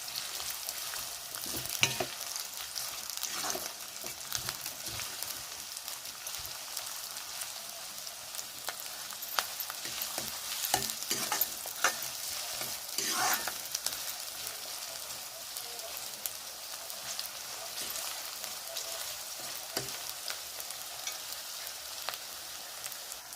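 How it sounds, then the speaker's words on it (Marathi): Onions frying in oil over a high flame for egg curry, stirred now and then, a constant close crackling sizzle broken by scraping and tapping of a spoon on the pan, no speech. "तर आपला कांदा एकदम नरम होईपर्यंत असा खरपूस असा भाजून घ्यायचा आहे"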